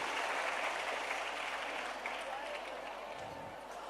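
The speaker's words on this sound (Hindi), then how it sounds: "जोरदार तालियां इन सभी बच्चों के लिए" Audience applause for children in a school quiz contest, a steady dense wash of clapping from a crowd filling the whole moment without a break.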